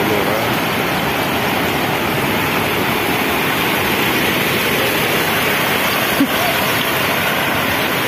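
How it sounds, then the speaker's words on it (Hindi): A river flooding after heavy rain pours over a waterfall, a loud, unbroken broadband roar of rushing water that stays steady and close the whole time. "ये यहाँ से वाटरफॉल हो रहा है"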